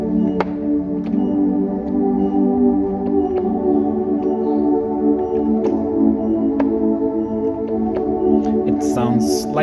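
Dark, fat keyboard synth patch set up for worship music, holding sustained layered chords with a warm low end and occasional light attacks, loud and steady throughout, no voices.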